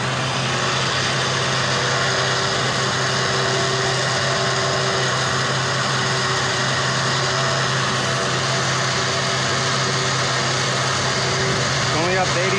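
A winch with a QuantumCoat-treated gearbox runs in under load, making a constant droning motor hum with a faint whine on top, and a brief clatter near the end.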